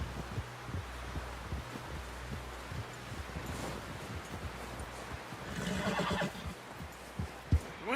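A horse in the Red Dead Redemption 2 video game, heard as soft rhythmic hoof thuds and snorting breaths under a low outdoor rumble, with a louder rustling surge late on and a single sharp knock near the end.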